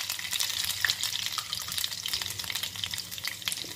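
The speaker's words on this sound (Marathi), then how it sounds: "मोहरी छान तडतडू द्यायची" Mustard seeds and garlic pieces crackle in hot oil, a steady dense sizzle scattered with sharp pops and spits throughout, close and fairly loud with no talking.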